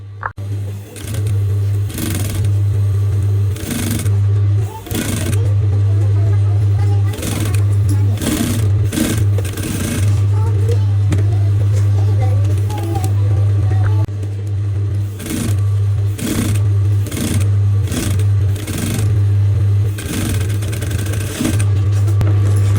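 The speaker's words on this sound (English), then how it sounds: "I'm going to go ahead and top stitch on this upper part as well" A sewing machine top stitches the upper part of a double-layered three-part bra cup, its steady low motor hum broken by repeated short bursts of needle clatter, loud and close, with no talking.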